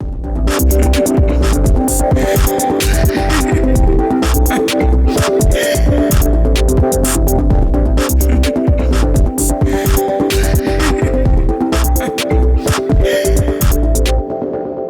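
Dense electronic music processed through an Ableton Live limiter in its old soft clipper mode plays loud and continuous, with sharp rhythmic transients, a steady tonal bed and a slightly crunchy clipped edge throughout.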